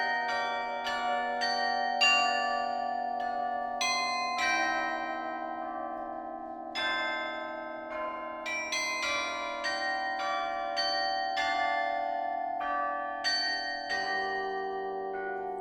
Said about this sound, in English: what we have now is a much richer, fuller sound from each bell